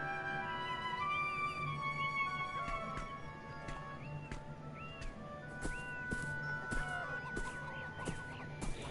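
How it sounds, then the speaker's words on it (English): Soft, choppy clucking chirps from chickens in the video game Beyond Eyes mingle with clicks and a low steady hum, fairly quiet throughout. "They are making chicken noises."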